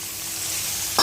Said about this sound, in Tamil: இந்த ஸ்டேஜில் நான் வந்து தக்காளி போட்டுக்கிறேன்.